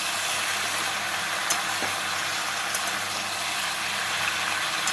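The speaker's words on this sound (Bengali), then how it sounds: "টমেটো দিয়ে আলু আর পেঁয়াজ কলির সাথে নাড়াচাড়া করে নেব" Potatoes, spring onions and tomatoes frying in a pan while being stirred, giving a continuous even sizzle with a few faint clicks of a utensil against the pan.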